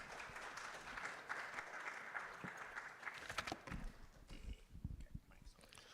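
Applause from a conference audience fills the room, a continuous patter of clapping that thins out and becomes more scattered toward the end.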